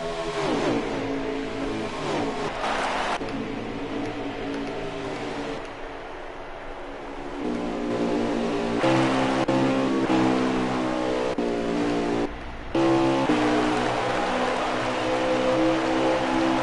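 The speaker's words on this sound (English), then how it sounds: "Little 5-car pack running for the lead" A small pack of stock race cars battling for the lead at Kentucky, engines roaring steadily with rising and falling pitch as they pass, loud and continuous throughout.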